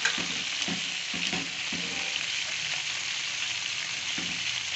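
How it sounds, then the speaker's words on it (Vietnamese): Quail deep-fry in hot oil with a loud, constant sizzle and crackle, broken by a few soft knocks or stirring bumps early on; nobody speaks. "Cuối cùng mình cũng chiên xong nha mọi người."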